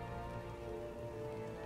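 Steady rain in the strategy game Empire Total War: a dense, continuous hiss of falling drops on a surface. It stays fairly quiet and even throughout, with no voices.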